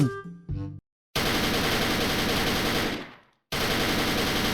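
Thompson M1A1 submachine gun firing in a video game, loud sustained automatic bursts with a brief pause between, preceded by a few short shots, close and dense.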